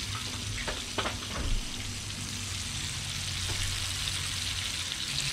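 Red snapper pieces deep fry in hot oil, giving a steady, soft sizzle with a few brief clinks and splashes near the start.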